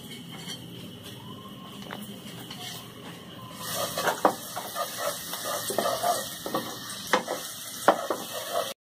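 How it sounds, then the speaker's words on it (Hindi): Chopped garlic dropped into hot oil while cooking chicken corn soup, starting quiet and then breaking into a steady crackling sizzle with stirring clatter from about four seconds on, close and fairly loud, with no talk. "अभी ऑयल गर्म हो गया है, इसके अंदर मैं ये लहसुन को मैंने चॉप कर लिया था, वो लहसुन डाल देंगे इसके अंदर।"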